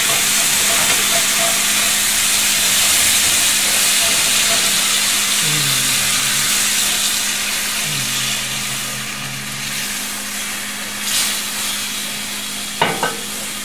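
Roast beef cooking in a pot with its drippings sizzles and hisses steadily and loudly up close, with faint stirring, a few brief low tones and a small clink near the end.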